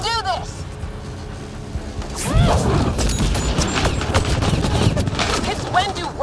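Sustained gunfire in the sci-fi shooter Mass Effect Andromeda: a dense, loud fusillade of rapid shots and impacts that intensifies partway through, with voices talking over the battle.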